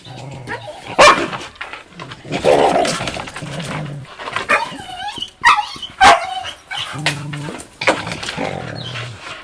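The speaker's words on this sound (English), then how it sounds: "just had to have some puppies growling at each other for your entertainment" Puppies growling, yipping and barking at each other in a playful scuffle, with repeated short bursts and whimpers close by and no talking.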